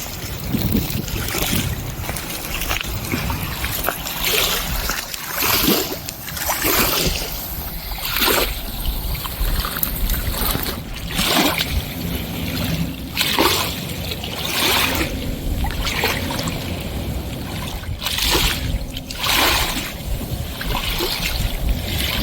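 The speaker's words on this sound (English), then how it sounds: "there's lapping water, so I'm going to share that with us" Water laps at the shore of Lake Powell in Camp Helen State Park, with soft, irregular splashes and trickles under a steady rush of wind buffeting the microphone.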